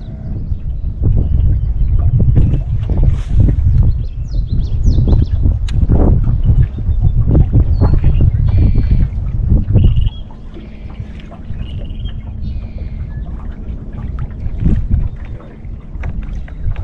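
Wind gusts buffet a fishing boat on a lake, loud blustery rumble for the first ten seconds, then easing to a lower, steadier whoosh with light water sounds.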